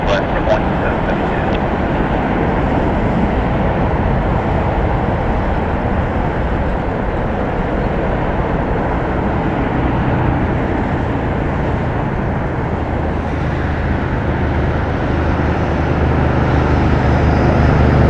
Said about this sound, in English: The Southwest flight to Ontario cleared for departure.